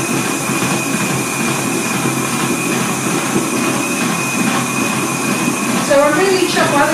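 A kitchen blender runs continuously, mixing yellow, green and white colours for cupcake decorating, a loud steady whirring drone with a few brief higher squeaks near the end and a voice faintly underneath.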